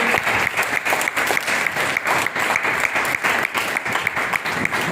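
A seated audience at a poetry event applauds in a steady, rhythmic rhythm, many hands clapping loudly and close, with slight pulsing and no pause across the stretch.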